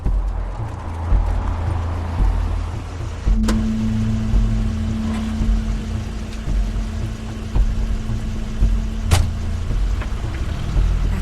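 A car in The Wolf Among Us, heard as a low idling engine hum with a steady droning tone and a few sharp clunks, moderately quiet with no talk.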